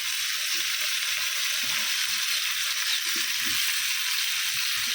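Cut potatoes fry in a pan with a continuous, bright, hissing sizzle that stays loud and even throughout, with soft low stirring bumps underneath.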